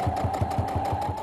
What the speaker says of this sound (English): and her sewing machine